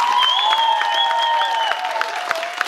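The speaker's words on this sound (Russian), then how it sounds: "аплодисменты за анимационную команду." A crowd applauds steadily throughout for the animation team at a resort hotel entertainment show in Turkey, dense clapping with a sustained whistle-like tone riding above it, loud and continuous without a break.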